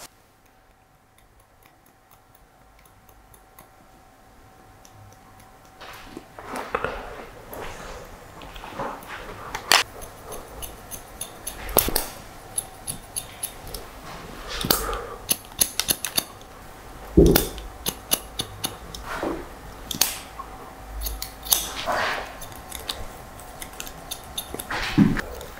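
Barber's scissors snipping through hair for a short textured fringe fade, a steady series of crisp, close clicks and snips that grow busier and louder over time, with no talking.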